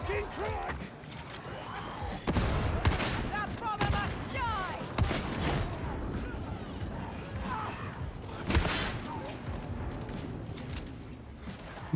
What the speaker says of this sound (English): This is a really good shotgun.